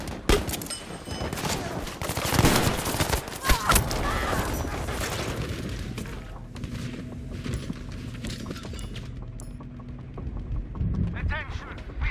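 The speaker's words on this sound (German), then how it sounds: "Aufpassen, Maschinengewehr!" Machine gun bursts and scattered gunfire fill a Battlefield 5 battle. A dense, loud fusillade rolls through the first half, then thins into a quieter mechanical rattle with shouted voices underneath.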